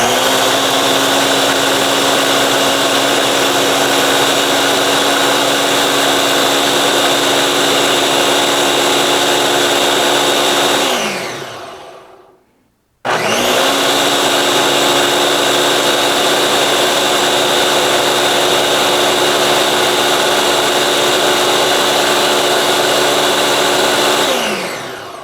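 Running on its ice crush setting, a Ninja BN751 blender gives a very loud, continuous motor roar lasting about eleven seconds, spins down to a brief stop, then starts straight back up for another long, steady run, close to the microphone.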